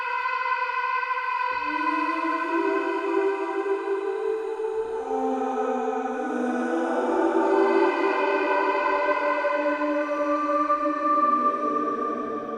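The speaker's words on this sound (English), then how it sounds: "bring up the reverb." Heavily reverberant, drawn-out vocal tones from the Excite Audio Bloom Vocal Aether Lite plugin swell and glide over one another, washing into a dense echoing wash with no clear words.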